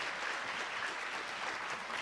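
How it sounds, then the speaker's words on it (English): Dense, steady audience applause at the Arctic Inspiration Prize ceremony honoring the Dene Language Workshops, a continuous wash of many hands clapping at even loudness throughout. "you can continue that big round of applause for the Dene Language Workshops"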